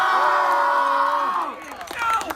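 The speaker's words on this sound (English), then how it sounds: "here's some footage of me wrestling at Glory 3, which actually got a very loud crowd reaction" Loud crowd at a backyard wrestling show, Glory 3, roaring and cheering in a sustained swell with whoops and yells, dipping briefly before surging again.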